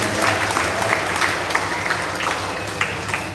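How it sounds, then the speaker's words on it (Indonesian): A crowd at a Pentecost Eucharist celebration claps in a sustained round of applause, a dense, even patter of many hands lasting a few seconds. "Maka tepuk tangan dulu."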